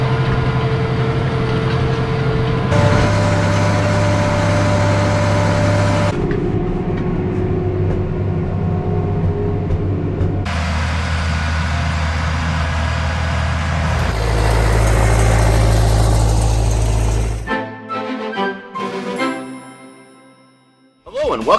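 A farm tractor works ground during spring field work in Darke County, Ohio, its engine holding a steady, loud low drone across several abrupt cuts before ending in rattling clatter.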